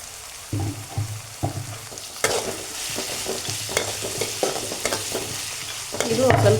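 Green chillies fry in oil for tomato rice, crackling with bursts of sizzle as a utensil stirs and scrapes the pan. The scraping comes in irregular knocks, and the frying grows louder near the end.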